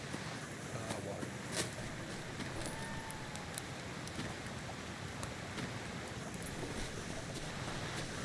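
Rain falls steadily in the jungle survival game Green Hell, a broad even hiss with scattered faint drop ticks, continuous and fairly quiet throughout.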